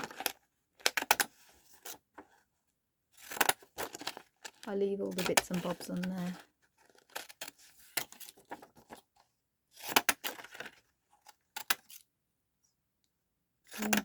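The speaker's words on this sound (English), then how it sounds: "Just fancy scissors." Fancy decorative scissors snipping through paper or packaging while making an index card booklet, short crisp bursts of cuts separated by pauses, close to the microphone, with a person talking in between.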